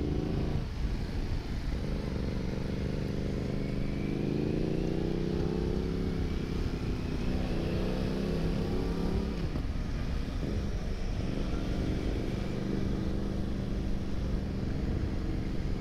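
A group ride of motorcycles, a 125cc Aprilia out front with a Yamaha, a Kawasaki Z900 and a Honda, drones steadily for the whole stretch, engine notes rising and falling under constant wind-blown road noise.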